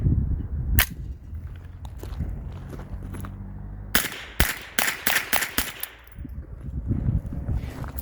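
A .22 LR rifle fitted with a CMMG conversion kit fires a handful of sharp, loud, close shots, one early and a rapid cluster of about six later, with mechanical clicks and handling noise between.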